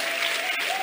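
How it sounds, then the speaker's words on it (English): Church congregation applauding, a brief dense patter of many hands clapping, continuous and fairly loud for under a second. "Let's give a round of applause and celebrate the King because of them."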